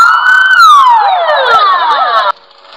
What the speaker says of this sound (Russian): Это кнопочка, которая дает сирену.